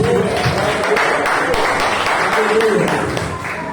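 A church congregation applauds, a steady dense clapping that fills the room and fades slightly at the end.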